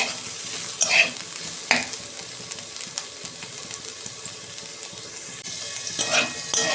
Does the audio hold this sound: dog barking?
no